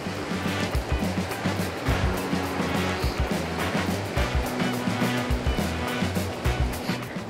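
Fast-moving river water rushes steadily and loudly, a constant broadband wash with rhythmic low thumps running through it, heard up close at a trout fishing spot.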